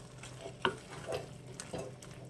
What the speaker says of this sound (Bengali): দিয়ে নাড়াচাড়া করবো।